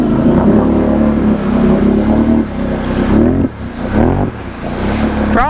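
A Can-Am Renegade 1000 ATV on 32-inch Nator tires churns through deep mud in four-wheel drive, its engine loud and close, revving hard in sustained surges that dip and rise again.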